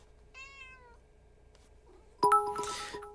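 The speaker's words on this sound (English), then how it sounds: "Cat." A single short, clear cat meow sounds alone against a quiet background, then a bright chiming ding and rustling follow.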